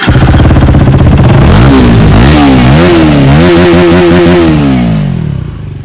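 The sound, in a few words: KTM Duke 250 single-cylinder engine with Akrapovic full exhaust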